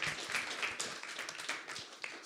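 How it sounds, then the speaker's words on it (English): Applause from a church congregation honoring visiting pastors, a steady mix of claps filling the room at moderate level with faint voices underneath. "let's give them another round of applause."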